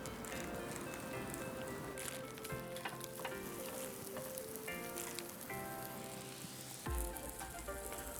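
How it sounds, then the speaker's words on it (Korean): Korean jeon pancakes sizzle continuously in an unoiled frying pan with a soft, crackly hiss, joined by a brief clunk near the end; no talking. "지글지글지글 하면서 되게 잘 굽히고 있는데"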